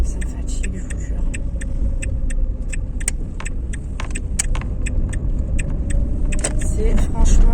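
Inside a car, a running engine gives a steady low rumble throughout, with quick ticking and jangling taps over it and faint voices in the background.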